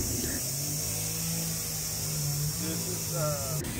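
Heavy digging equipment runs at a yard being regraded for a retention pond, giving a steady low engine drone that holds through the whole stretch, with faint voice-like sounds and a brief knock at the very end.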